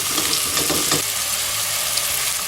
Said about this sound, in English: I'm going to start adding my onions to the side of the pot